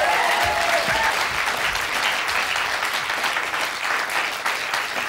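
Studio audience on a television quiz show breaks into sustained applause, a dense, even wash of clapping heard close and loud throughout, with no speech over it.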